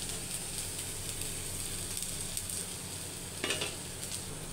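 Ginger paste fried in oil with bay leaf, garam masala, ground chili and turmeric gives a steady close sizzle and hiss, with brief stirring scrapes and no talk.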